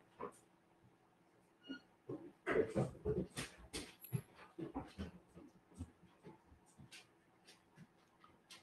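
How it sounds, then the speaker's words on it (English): A dog whimpers and whines in the background with soft, intermittent yips and breaths, fairly quiet and irregular, with no talk over it. "Sorry if you guys hear any noise. It's my dog in the background."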